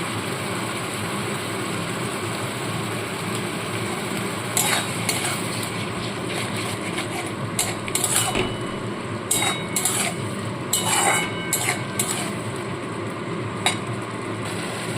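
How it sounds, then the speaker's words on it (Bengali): Tomato with ginger, garlic and onion paste sautéing in a pan, a steady sizzle with intermittent clinks and scrapes of stirring, close and alone. "টমেটোটাকে বেশ ভালো করে কষিয়ে নিচ্ছি"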